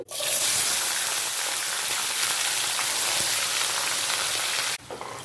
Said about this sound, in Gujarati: અહીં આપણે કંકોડાને બે મિનિટ માટે એકદમ સરસ તેલની અંદર સાતળવા દઈશું